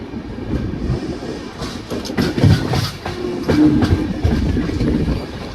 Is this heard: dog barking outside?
no